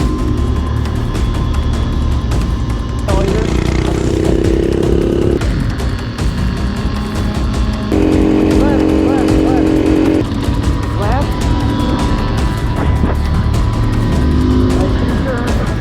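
Vehicle driving down a highway at night, a loud, continuous engine and road drone with shifting pitch, overlaid by people talking throughout.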